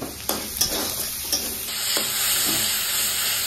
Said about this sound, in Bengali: তেজপাতা, শুকনো লঙ্কা, কালা জিরা ফোড়ন দিয়ে পেঁয়াজটা দিয়ে দিলাম, হালকা একটু ভেজে নিব